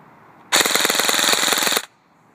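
A custom-built ACR airsoft rifle on an 11.1 volt battery fires a loud, close full-auto burst of about 1.3 seconds, a rapid steady rattle of roughly twenty shots per second that cuts off sharply.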